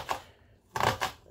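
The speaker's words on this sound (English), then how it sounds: "when you're chopping onions, leave the root on" A knife chops onions on a board with a single cut, a short pause, then two quick cuts close together, with no talking.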